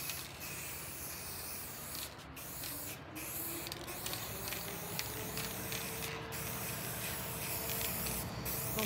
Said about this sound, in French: on est sur une bombe dorée